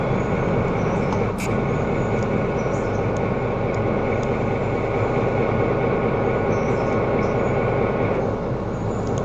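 A train hauling a Santa Fe boxcar runs steadily through a railroad video game, a continuous loud rumble and rail drone with a brief higher squeal near the start.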